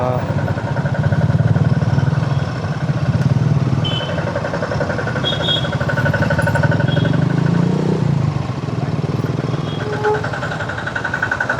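A motorcycle with no number plate, ridden on a long road trip, runs with a steady engine drone and clutch operation, loud and continuous throughout.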